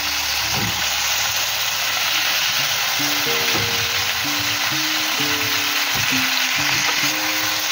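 Medium-thick potato slices for aloo katli fry in a pan with a loud, steady sizzle that does not let up. A stepping melodic tone plays underneath.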